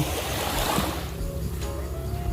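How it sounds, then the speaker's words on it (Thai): Morning ocean waves on Bang Saray Beach in Sattahip, Chonburi, a steady close wash of surf that swells at first, then settles into a softer hiss with a faint background hum. "ฟังเสียงคลื่นไปเรื่อยๆ นะคะ"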